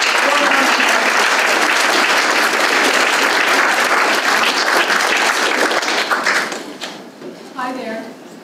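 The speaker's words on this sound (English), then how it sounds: "So please give a warm round of applause." A large audience at a talks event claps warmly, a dense loud burst of applause that holds steady and then thins out and fades near the end, with a voice starting up briefly as it dies away.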